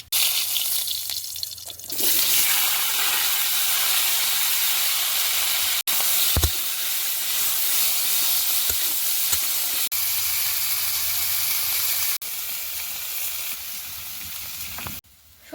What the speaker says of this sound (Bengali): কলাটা ডালনা করবো তাই গোটা জিরে ফোড়ন হিসাবে ব্যবহার করছি আমি